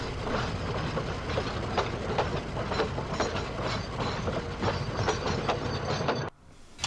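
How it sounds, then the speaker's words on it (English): A toy train rolls steadily along the track, its wheels clacking in a regular rhythm at close range before the sound cuts off abruptly at the end. "And Liam went off, taking the trucks down the line."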